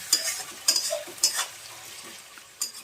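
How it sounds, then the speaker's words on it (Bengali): Chopped tomatoes, green chilies and salted onions fry in a pan, with a few sharp scraping stirs of a utensil against the pan over a light, steady sizzle; no one speaks. "আমি এইগুলো সব পেঁয়াজের সাথেই ভাজবো"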